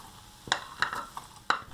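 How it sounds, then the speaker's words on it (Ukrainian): Soft, irregular scraping and clinking of a spoon working through a thick shortcake dough of flour, butter and kefir in a bowl, a few distinct strokes, close and fairly quiet. "Вимішувати ложкою недовго, тільки злегка з'єднати інгредієнти."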